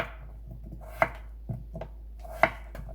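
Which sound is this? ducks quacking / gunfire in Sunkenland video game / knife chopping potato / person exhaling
knife chopping potato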